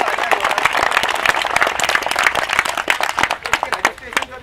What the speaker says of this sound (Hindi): एक बार ओपी सर के लिए तालियां हो रहा है।